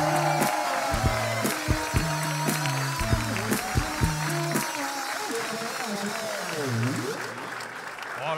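At a NightWash live comedy show in Cologne, the audience applauds comedian Jan van Weyde's first appearance: a steady wash of clapping under loud stabbing stage music that stops midway, leaving the applause to carry on alone.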